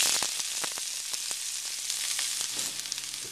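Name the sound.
onions frying in hot oil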